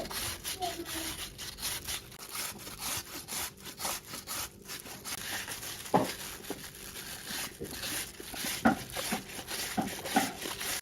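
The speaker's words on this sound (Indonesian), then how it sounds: "Selanjutnya ini mau aku serut pakai serutan kayak gini." Rhythmic rasping strokes of food being shredded on a hand grater run continuously at close range, a dense scratchy texture with occasional sharper scrapes.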